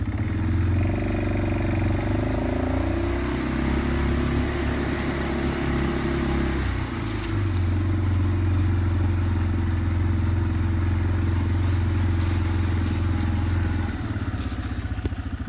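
A vehicle engine runs loudly and continuously at close range on a rural trail, with a steady low drone that shifts pitch partway through after being put into gear.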